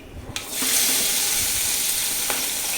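Chopped vegetables drop into hot oil where mustard seeds have already popped, bursting into a loud, dense, close hiss that holds steady, with a couple of sharp utensil clicks and no voices.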